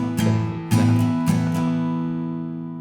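Acoustic guitar strums the pattern: a few firm down-and-up strokes on a sustained chord, close and ringing, then the chord fades out.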